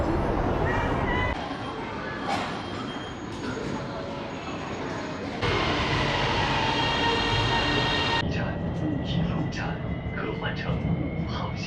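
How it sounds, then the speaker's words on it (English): A metro subway train in Kunming, heard as a continuous rolling rumble and hiss that shifts in level as the train moves, with speech at times over the noise. "I'm going to use the subway, I'm going to use the metro."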